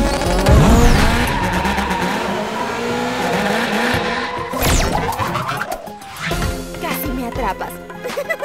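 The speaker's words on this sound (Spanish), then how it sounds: "¿Qué le pasa a este motor tan ruidoso?" Cartoon car with a noisy, rough engine roars loudly up close, mixed with tire squeals, skids and crash-like hits, as voices speak over the racket.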